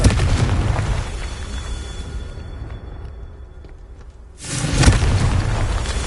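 Confringo fire spell explosion in the Hogwarts Legacy game, a loud sustained rumbling blast that fades out, then a second booming burst erupts near the end.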